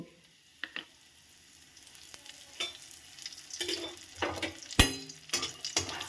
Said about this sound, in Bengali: এখন আমি এই যে বড়িগুলো তেলের মধ্যে দিয়ে দেব, বড়িগুলো ভেজে নেব।